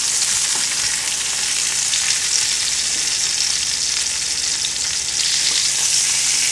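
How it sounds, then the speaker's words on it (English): Pork chops sizzling in a frying pan, a loud, even hiss of hot fat that carries on steadily and close, with no voices. "you'll hear that sizzling sound"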